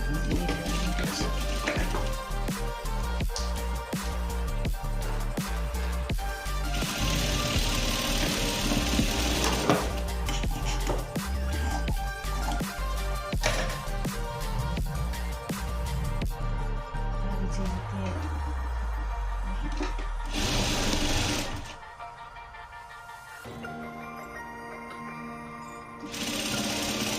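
A sewing machine stitches a Bombay katori blouse with a loud, fast, steady mechanical whirr and rapid needle rattle that runs for most of the stretch, then stops near the end as brief quieter handling sounds follow.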